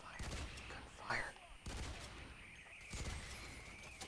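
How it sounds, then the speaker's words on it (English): Rapid bursts of gunfire from the first-person shooter game F.E.A.R. 3 crackle in dense clusters with brief pauses between volleys, loud and close, with someone talking over them. "A lot of fire, gunfire."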